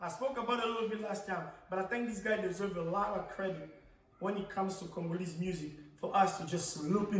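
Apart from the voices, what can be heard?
No distinct noise like a dog, phone or traffic.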